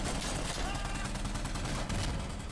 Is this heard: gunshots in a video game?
yes